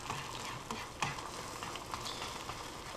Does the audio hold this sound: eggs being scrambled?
yes